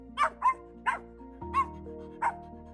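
A dog barks in five short, separate yips with gaps between them, moderately close, over a sustained musical background.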